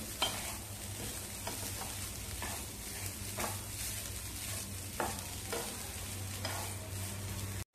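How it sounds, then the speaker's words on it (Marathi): Grated coconut stirred and sautéed in a pan over a low flame for modak filling, with a steady soft sizzle and periodic scraping strokes of the spoon at a regular rhythm, close by and alone. "बारीक गॅसवरतीच आपल्याला छान परतवून घ्यायचंय."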